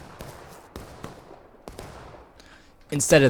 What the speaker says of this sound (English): Very good canister shot from these guys.